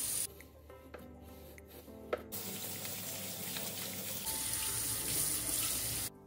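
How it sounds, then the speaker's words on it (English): Water sprays into the tank of a Schenley wet dry vacuum and a cleaning brush scrubs inside it. A close, continuous hiss of water mixes with rubbing brush strokes, growing fuller partway through, with no voices. "So spray some water in there. Take your cleaning brush and make sure that you scrub everything inside properly"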